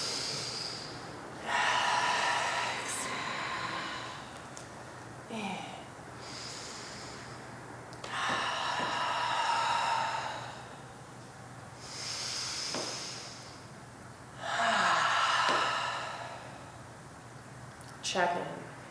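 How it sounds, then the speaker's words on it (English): Slow, deep breaths during a yoga flow, long airy inhales and exhales repeated several times with soft pauses between, close and clear, with quiet background hum. "3 cleansing breaths."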